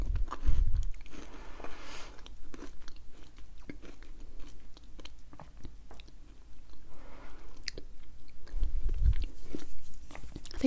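Crunchy macadamia and white chocolate biscuit being bitten and chewed close up, with sharp crackling crunches and moist chewing that continue in an irregular rhythm, interrupted by a few quiet breaths and mouth noises.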